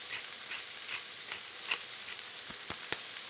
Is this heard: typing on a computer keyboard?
no